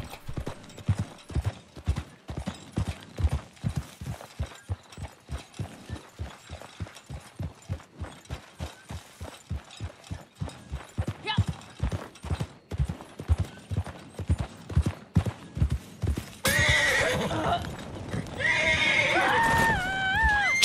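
A horse gallops with a steady, loud clip-clop of hooves and then neighs and whinnies several times near the end in the video game Red Dead Online, with no talk over it.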